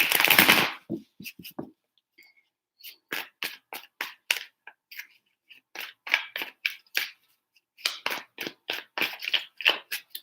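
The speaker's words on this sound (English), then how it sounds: "Three shuffles." Tarot cards being shuffled by hand, a loud riffle at the start followed by many quick crisp flicks and taps in irregular bursts, close up.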